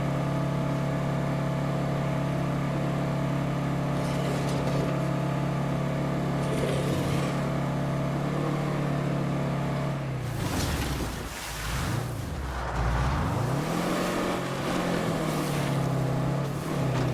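Car engine in the zombie survival game State of Decay 2, a continuous loud droning hum throughout that dips and swells in pitch midway as the vehicle shifts speed, with no talking.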